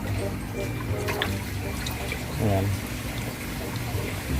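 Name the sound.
water draining from a tilapia fish tank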